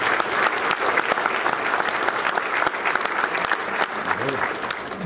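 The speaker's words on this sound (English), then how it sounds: "let's give them a round of applause for that" Audience applause at a hall of fame awards ceremony in Orlando, a dense, even burst of many hands clapping, loud and sustained for the whole stretch.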